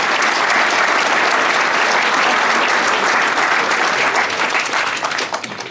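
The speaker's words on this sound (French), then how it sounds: "Je crois qu'on peut l'applaudir." A big crowd applauds at a town mayor's New Year address in Chavelot, honouring a youth disability sports association. The clapping is dense and steady throughout and tapers slightly at the end.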